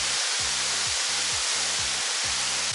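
A torrent of water roars at Nut Dip Falls in Tasmania, a split waterfall heard as loud, continuous broadband rushing with a faint rhythmic low hum beneath.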